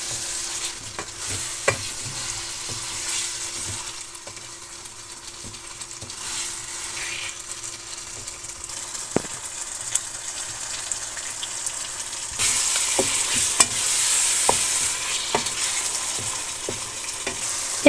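Chicken, boiled potatoes and masala frying in a pan while being stirred, a steady sizzle with scattered scraping clicks of the spoon, louder and brighter in the last few seconds, no talking.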